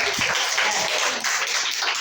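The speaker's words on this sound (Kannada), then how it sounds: "ಚಪ್ಪಾಳೆ ಹಾಕ್ರಿ, ಚೆನ್ನಾಗಿ ಓದ್ತಾರೆ" A classroom claps for a student who has just read a Kannada Haridasa kirtane aloud. Brief scattered applause from a small group sounds close and lasts about two seconds.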